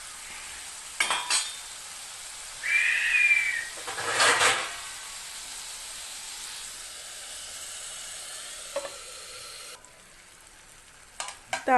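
Slit green chillies dropped into a hot pan of sambar with tomatoes, giving a brief burst of frying sizzle and hiss, then stirring and a low background simmer with a few light clinks of utensils.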